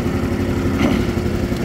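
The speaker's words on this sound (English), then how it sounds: "This motor hits the rev limiter no problem, and I can pull the governor and get more." A Predator 459cc engine running on a GoDevil longtail boat motor, fitted to a leaking, beat-up boat, gives a loud, steady close-up drone with a slight swell partway through and no talk.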